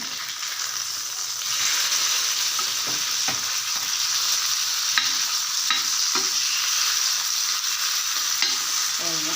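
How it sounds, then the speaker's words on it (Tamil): Fish pieces frying in oil in a pan for a fish curry, a steady close hiss of sizzling throughout, with occasional soft clicks and stirring scrapes and no talk. "இப்படியே வச்சு வறுத்து வறுத்திங்கன்னா நல்லா முறுமுறுன்னு சூப்பராக வறுத்தரலாம்"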